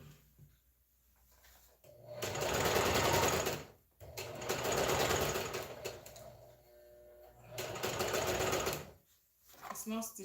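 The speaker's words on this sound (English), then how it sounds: "this machine is not stitching well" Sewing machine stitching fabric for an African print shift dress, running in three long loud bursts with short pauses between, struggling to stitch well; a voice talks quietly in the gaps.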